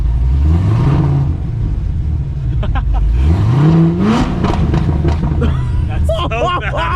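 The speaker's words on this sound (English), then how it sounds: "We're gonna rev it." A Chevrolet C8 Corvette in track mode revving hard, the engine note sweeping up twice in loud rising pulls with a crackling burble at the close, with a voice talking over it.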